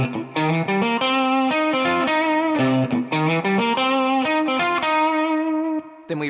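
A distorted electric guitar plays a blues riff, a variation on a repeated lick, with punchy picked notes and chords in a quick rhythmic phrase, loud and close.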